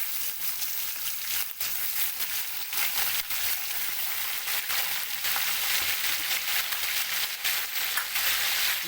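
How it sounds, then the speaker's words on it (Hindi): Chicken pieces frying in oil with browned onion, garlic and ginger, a steady crackling sizzle close by with occasional stirring clicks and no talking. "तो अब इसमें जो चिकन है मैं वो डाल दूंगा।"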